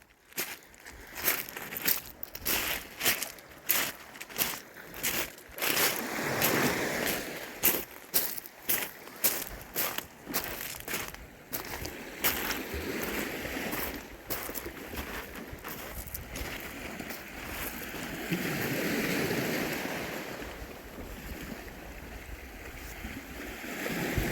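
Winter sea waves on the Cyprus coast wash in as broad, rolling swells. Rapid bursts of rough wind or handling noise crowd the start.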